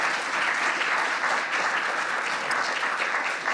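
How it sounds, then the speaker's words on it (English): Steady, moderately loud audience clapping fills the whole stretch, an even wash of many hands with no voices over it. "You were clapping"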